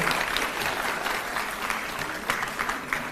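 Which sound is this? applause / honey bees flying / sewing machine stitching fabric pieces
applause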